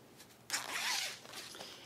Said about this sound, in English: So now pull your zipper apart,